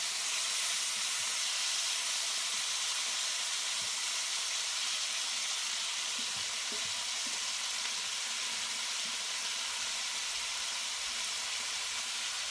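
Steaks sizzle steadily in a hot pan with the heat just turned off, a dense continuous hiss and crackle, close and even throughout with faint pops underneath.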